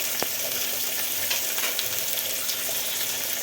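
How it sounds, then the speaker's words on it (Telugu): Mint and coriander leaves frying with ginger garlic paste in a pan for milk pulao, a steady close-up sizzle and crackle of hot oil with faint stirring scrapes. "ఈ అల్లం వెల్లుల్లి పేస్ట్తో పాటు ఇది కూడా వేగిపోతుంది."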